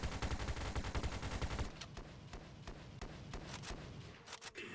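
Bursts of game gunfire in VRChat, first a dense rapid volley, then spaced single and double shots cracking out over a quieter background, fairly faint overall.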